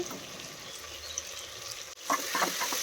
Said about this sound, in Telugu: పుదీనా తరుగు కూడా వేసుకున్నాక ఒకసారి స్పూన్తో వీటన్నిటిని మంచిగా కలుపుకుంటున్నాను